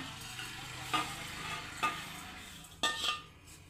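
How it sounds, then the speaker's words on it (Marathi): Dry coconut roasts in a pan with a soft steady sizzle, broken by three sharp clinks of a spoon scraping and stirring against the metal, close and without talk. "खोबरंसुद्धा मी आता भाजून घेणार आहे थोडंसं"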